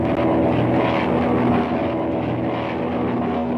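A propeller airplane engine drones steadily and loudly in an old 1937 film serial, an even, unbroken roar with a faint hum of tones riding on it.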